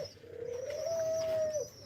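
A single pigeon in a home loft gives one long, drawn-out coo that rises and holds steady, fairly close and clear over a quiet background.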